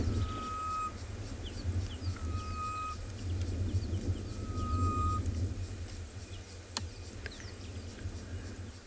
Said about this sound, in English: A beautiful, beautiful bird.